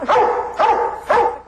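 A dog barks three times in a steady rhythm, each bark loud and close, with short pauses between them and no voices.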